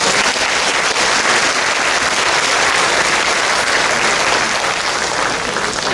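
Loud, dense applause fills an elementary school graduation ceremony as all-A honor roll students are recognized, a continuous roar of many hands clapping close by with no pause.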